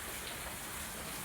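Heavy rain falls steadily in Surat, a dense, continuous hiss of drops on surfaces with no break and no voices.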